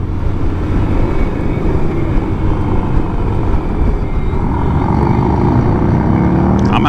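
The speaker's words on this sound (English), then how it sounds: "I'm out here on the DCT Honda Goldwing" A DCT Honda Goldwing, a 2025 50th Anniversary model, ridden near Daytona Beach, Florida: a steady, loud engine and wind roar holds throughout with no break.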